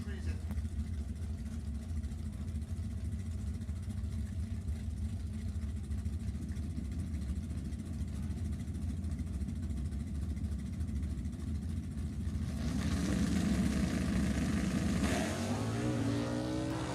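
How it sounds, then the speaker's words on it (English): A drag racing car at the NHRA Pacific National Open in Sacramento holds a distant, steady engine roar under indistinct voices, then surges louder near the end as its tire spins hard. "That was John Winslow trying to turn the car all the way around, spinning the tire so hard."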